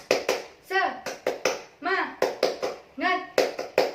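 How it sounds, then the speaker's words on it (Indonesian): A teacher leads a classroom clapping chant: crisp rhythmic hand claps in short patterned bursts alternate with chanted voices, close and lively. "Tepuk semangat!"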